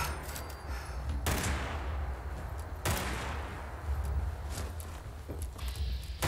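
A gun in Fallout 76, fired in a loud rapid burst, a pause, then another burst, followed by scattered shots and clatter.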